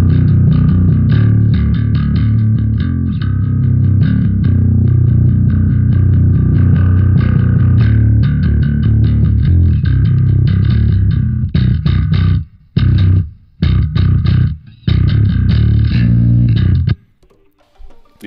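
Bass guitar runs through an Ampeg SVT amp simulator plugin with the gain raised, giving a thick, distorted tone played as a continuous riff before breaking into a few choppy stabs and stopping.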